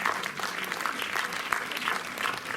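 Cinema audience applauding a film's team called up on stage at the Méliès in Montreuil: dense, steady clapping from a crowd throughout, fairly loud and continuous with no break.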